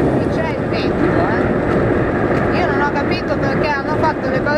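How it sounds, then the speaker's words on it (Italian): Strong wind buffets a truck crossing a high motorway viaduct without windbreak barriers, a loud, constant rushing roar mixed with low road and engine rumble heard from inside the cab. "Qui c'è il vento, eh."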